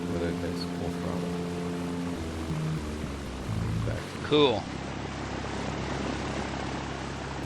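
A simulated aircraft engine in a Second Life flight simulator runs up at full throttle, a steady, even propeller drone that is broken midway by a short spoken word.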